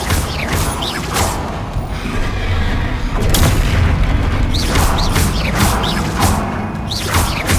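Explosive blasts from the Bombarda spell in Hogwarts Legacy, a series of heavy booms and crashes repeating every second or so amid a loud, continuous combat din.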